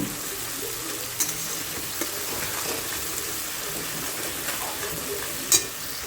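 Food frying in a pan on a home stove, a constant close sizzle with faint stirring and a few sharp utensil clicks, one louder tap near the end.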